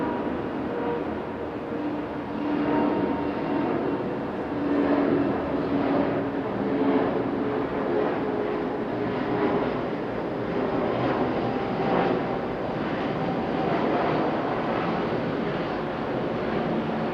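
Airliners at Okinawa airport, heard from a twelfth-floor vantage, give a steady broad roar of jet engines held at a distance, with some wind rumble and no talking.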